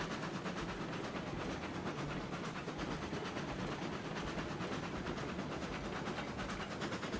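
A train rolls along steadily in the Railroads Online railway game, with a continuous dense rumble and fast rhythmic clatter of wagons filling the whole stretch at an even, close level.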